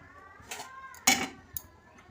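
A cooking pot of rice lifted off the stove in a village kitchen, with a few clanking metal knocks and scrapes, the loudest in the middle, close by and without talk.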